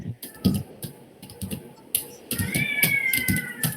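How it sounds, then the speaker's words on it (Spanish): A cat in a classroom lets out several drawn-out, whiny meows that rise and waver, close and fairly loud, with scattered clicks and tapping around them. "Ay, no, qué gato más horrible ese."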